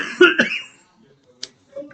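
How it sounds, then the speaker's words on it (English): A person coughs twice in quick succession, fairly close and moderately loud, followed by quieter throat and breath noises. "Just forgive me if I cough every now and again."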